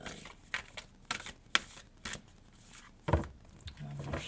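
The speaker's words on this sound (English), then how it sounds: "One more shuffle." Tarot cards riffle and snap in a handful of quick, separate bursts as they are shuffled, with soft rustling and small handling noises between them, close up and fairly quiet.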